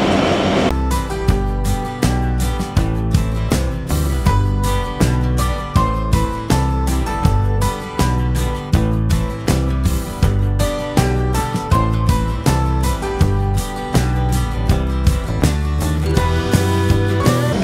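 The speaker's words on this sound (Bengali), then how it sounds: "দর্শনা হল থেকে ট্রেনটি এখন ছেড়ে দিল।" Sagardari Express pulling away from Darshana halt, a steady loud run of rhythmic wheel clatter and rumble over rail joints, heard close from on board.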